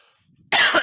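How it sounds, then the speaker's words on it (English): A person gives a short, harsh cough from a tickle in the throat, a loud burst arriving close to the mic after a quiet moment and breaking into a couple of rough pulses. "I got a little tickle cough here."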